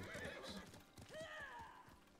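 A horse in the video game Ghost of Tsushima whinnies with a rising then falling neigh, preceded by snorting and hoof clops, fairly faint and close-miked.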